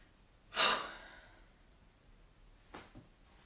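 A deep breath drawn in as part of a relaxation exercise, then a strong, breathy exhale loudly blown out close to the microphone, followed by a fainter second breath a couple of seconds later.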